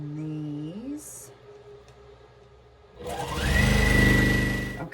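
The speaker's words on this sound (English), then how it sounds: "And then I'm going to sew this." A sewing machine stitches quilt block pieces, a rising mechanical whir that builds up loud and steady near the end, following quieter sounds of handling.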